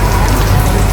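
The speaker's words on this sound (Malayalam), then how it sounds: "നല്ല മഴ പെയ്യാണ് ഗൈസ് പുറത്ത്." Heavy rain falls outside in a loud, dense, continuous wash with no pauses or voices.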